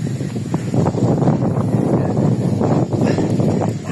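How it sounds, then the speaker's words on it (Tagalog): Wind blows steadily outdoors behind a house under construction, a loud continuous roar buffeting the microphone with gusty rumbles throughout. "Hangin."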